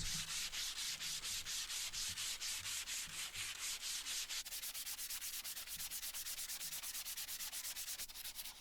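100-grit sandpaper rubs across scrap wood by hand in quick, steady back-and-forth strokes, close and continuous without pause.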